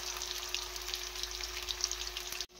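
Tofu frying in a pan gives a loud, steady, dense sizzle heard up close throughout, with tiny pops, and cuts off abruptly at the end; no speech.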